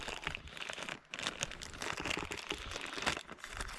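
A strip of odd tape is handled and pulled, giving dense close crinkling and crackling rustles, with one brief pause partway through.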